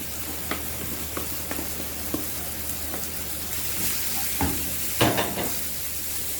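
Chopped coriander and garlic fry in hot oil in a pan, a steady close sizzle broken by scraping stir strokes and a few louder clatters near the end, with no talking.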